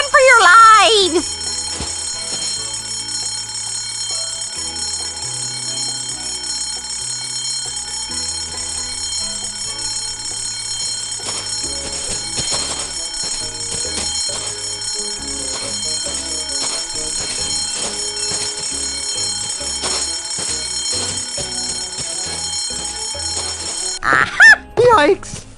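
A fire alarm rings in the Escape from Monkey Island video game, a loud, steady electronic tone sounding continuously for the whole stretch while a voice speaks briefly at the start and a short exclamation comes near the end.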